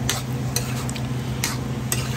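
Beef tripe callos in tomato sauce being stirred in a pan, with a steady low simmering sizzle beneath a few brief scraping strokes of the spoon against the pan, close and moderately loud.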